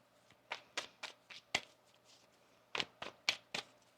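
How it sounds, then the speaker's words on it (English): Tarot cards are shuffled by hand in a series of sharp, close riffle and tap sounds: a quick run of five, a pause, then four more, crisp against a quiet room. "One more shuffle."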